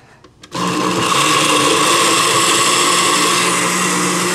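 A blender grinds spices and cumin for chilaquiles, roaring up loud and steady after a brief quiet start and holding a constant whirring drone to the end.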